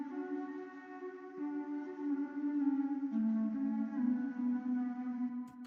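A soft, muffled flute plays a slow, sustained melody, its notes smeared and washed out by heavy reverb.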